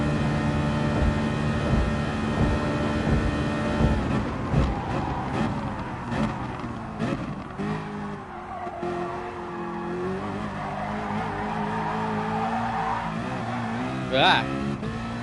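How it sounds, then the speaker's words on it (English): A Group 4 Citroen race car in a racing video game howls along in seventh gear, its steady engine drone rising and falling through corners with brief tire squeal, while someone talks over it throughout. "I've got a 7th gear running Citroen in my ears as well"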